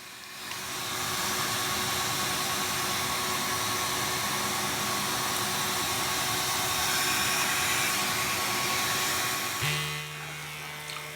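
A Flowbee vacuum haircutting device trims hair with a continuous loud, airy whine of suction and motor, steady for about ten seconds before the tone shifts and drops near the end.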